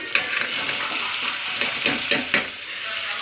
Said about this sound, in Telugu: సొరకాయ ముక్కలు చిన్న చిన్నగా కట్ చేసుకున్నాను డైరెక్ట్గా వేసేస్తున్నా కొంచెం ఆయిల్ వేసాను